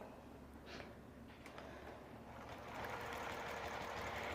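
A longarm quilting machine on a Cutie frame tacks down a large quilt, giving a steady mechanical hum that grows louder and denser partway through, with no voices.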